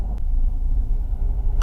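Heavy road traffic at BGC in Taguig heard from inside a vehicle, a steady low engine rumble and road drone, close and continuous with no talk.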